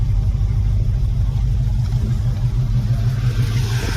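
A small block V8 swapped into a 1975 Chevy LUV idles steadily with a deep, loping low rumble, close and continuous, with a fan running and no talk.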